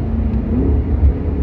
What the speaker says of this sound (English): You can hear the rumble of the car.